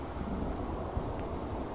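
Steady rain falling on a porch and carport in the Fallout game at Sanctuary Hills, a continuous broadband wash that stays even throughout, with no talk over it.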